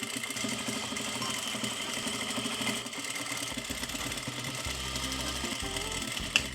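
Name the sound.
sewing machine sewing bias tape onto a corset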